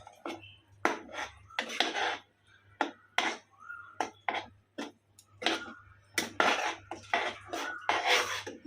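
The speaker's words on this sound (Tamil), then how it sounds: "மாம்பழம் மிக்சியில் அரைச்சது மீதி இருக்கிறதையும் போட்டு அடி பிடிக்காமல் அப்படியே அதை கிண்டணும்" Cooked mango pulp being stirred in a pan on the stove, the spoon knocking and scraping the metal in a steady run of close, irregular clatters with short pauses between strokes.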